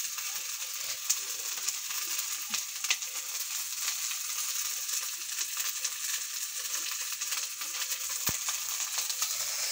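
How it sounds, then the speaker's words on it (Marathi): Onion frying lightly in a pan with cabbage and capsicum for a bread sandwich filling. A steady, fairly soft hiss and sizzle continues with small pops and an occasional utensil tick, and no voices. "त्याला हलकं फ्राय करून घेऊ आपण"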